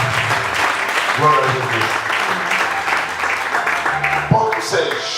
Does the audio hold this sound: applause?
yes